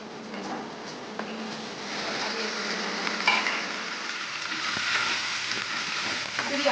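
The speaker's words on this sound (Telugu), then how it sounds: "ఇది ఆయిల్లో బాగా ఫ్రై అవ్వాలండి." Gongura leaves fry in oil in a pan, giving a soft continuous sizzle with occasional stirring scrapes and small pops, moderately loud and close, no voices.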